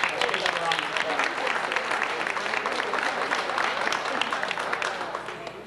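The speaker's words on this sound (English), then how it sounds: "let's give them a round of applause." Audience at a work Christmas party breaks into sustained applause, dense clapping with some crowd voices mixed in, fairly loud and steady before tapering slightly at the end.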